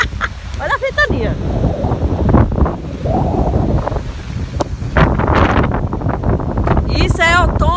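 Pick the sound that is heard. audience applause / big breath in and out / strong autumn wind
strong autumn wind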